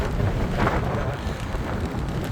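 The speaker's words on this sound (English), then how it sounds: "Really having to push into this wind." Strong wind roaring steadily across the microphone while cycling into a headwind, a dense continuous rush and buffet with no voices.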